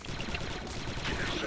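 Rapid gunfire in Star Wars Republic Commando, a dense stream of repeated shots with steady rhythm throughout, loud and close, with voices partly under it.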